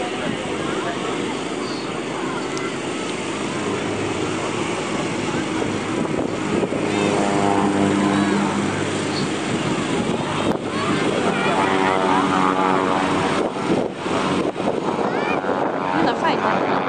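A propeller aircraft drones past at the Cleethorpes air show, its steady, loud engine roar swelling and shifting in pitch as it flies by, mixed with heavy wind buffeting and occasional voices nearby.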